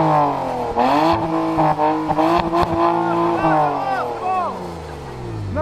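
A right-hand-drive twin-turbo car revs hard and accelerates close by, its engine note climbing in sweeping pitch rises with turbo whistles, while voices call out over the noise.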